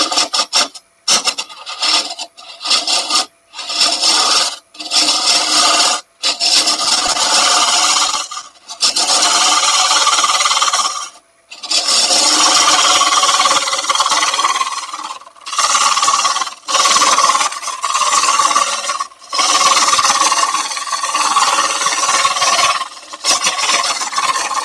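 A carbide cutter carving a cherry branch, a close, loud, rasping grind in repeated strokes of a second or two, broken by short gaps and a few longer runs, with no talk.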